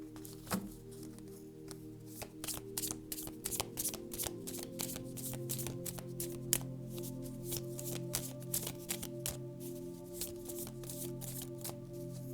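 A deck of oracle cards being shuffled by hand during a tarot-style reading, a long run of crisp riffling flicks and soft slaps in an uneven rhythm, close and fairly quiet, with no talking over it.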